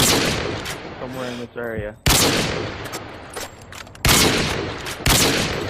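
Call of Duty Modern Warfare 2 gunfire, loud sharp shots in several bursts, including heavy booming reports, mixed with someone talking.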